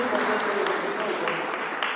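Congregation clapping steadily throughout a lively evangelical church service, a dense even wash of applause with murmured voices and exclamations mixed in.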